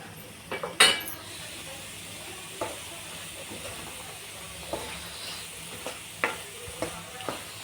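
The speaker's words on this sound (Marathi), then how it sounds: "मस्त फ्राय झाला आहे मसाला" Black masala frying in a pan for a drumstick curry gives off a steady low sizzle, broken by several sharp clicks and scrapes of stirring, close and without talk.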